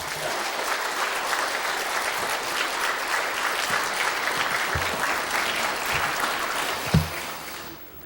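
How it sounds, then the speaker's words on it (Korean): A church congregation applauds to welcome a pastor, sustained, even clapping from many hands. It carries on for several seconds, then fades out near the end with a few isolated claps and a faint voice. "박수로 모시겠습니다."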